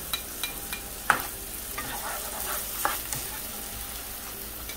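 Onion, pimento peppers and seasonings frying in hot oil for Trini aloo pies, a close continuous sizzle broken by several sharp spoon scrapes and stirring clatters, with no speech.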